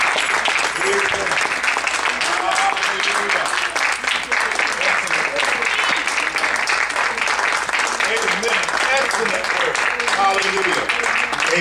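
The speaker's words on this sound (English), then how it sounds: "give the Lord a hand clap of praise." A church congregation claps in praise, sustained loud applause filling the room for the whole stretch, with voices calling out underneath.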